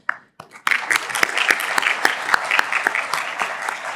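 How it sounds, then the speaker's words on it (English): An audience at the opening ceremony of the 40th anniversary of AO Trauma Thailand starts with a few scattered claps, then breaks into full, loud applause with sharp individual claps standing out near the microphone. "please join me in a giving heartfelt round of applause to honor Ajahn Vachirin Pipopmongkol"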